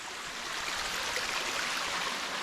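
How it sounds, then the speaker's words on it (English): River water rushes in a steady broadband hiss near a waterfall, constant and fairly close with no voices. "we're heading over the river"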